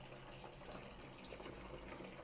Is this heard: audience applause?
no